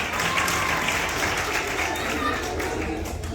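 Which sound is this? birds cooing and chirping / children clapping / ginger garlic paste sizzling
children clapping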